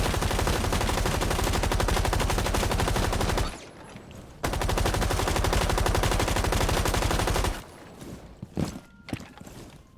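LMG firing in Rainbow Six Siege on the Emerald Plains map, a long loud sustained automatic burst, a short pause, another long burst, then scattered single shots and clatter.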